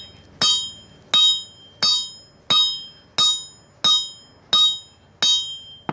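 A blacksmith flattens knife steel on an anvil with a hammer, ringing metallic blows struck alone at a steady, even rhythm, eight loud close strikes each with a bright decaying ring.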